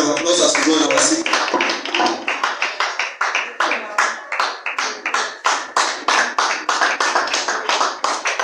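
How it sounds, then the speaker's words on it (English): Church congregation applause at a Living Faith Church service, a noisy burst of clapping with voices at first that settles into steady, loud rhythmic clapping in even time, each clap distinct and close. "Let's give the Lord a big round of applause as we go on our seat."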